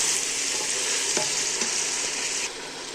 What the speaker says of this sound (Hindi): अब इसमें थोड़ा नमक ऐड करना है और फ्राई करना है